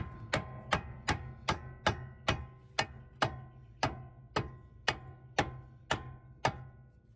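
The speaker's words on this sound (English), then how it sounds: "I got a rubber dead blow, like a rubber hammer I can use." Steady, evenly spaced taps of a rubber dead blow hammer fitting a 2014 Subaru Forester lower control arm, about fifteen sharp knocks at a slow rhythm, close and clear with no talking.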